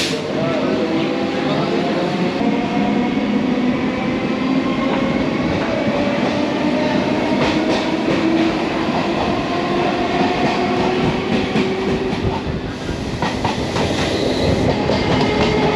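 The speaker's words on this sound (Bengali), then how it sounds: "আমাদের ট্রেন ছেড়ে দিল।" Indian passenger train pulling away and running on rails near the Gede border crossing, a loud continuous rumble with rhythmic clickety-clack of wheels over rail joints and occasional faint squeals, heard from inside a carriage with voices in the background.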